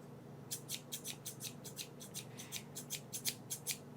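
Scissors snip in a steady series of crisp, close cuts over a faint low hum, with no talking.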